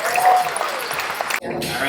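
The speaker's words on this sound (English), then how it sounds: "All right, big applause." Audience applause at a real estate company's annual conference, a brief full wash of clapping from a crowd with a short cut partway through.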